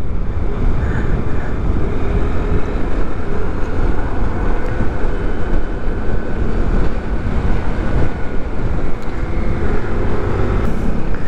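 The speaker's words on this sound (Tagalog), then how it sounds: "Sayad-sayad ang motor." Motorcycle riding over a long, rough road of large rocks on the way to Puerto Galera, Mindoro. Loud, continuous rumble and clatter with heavy wind buffeting and no break throughout.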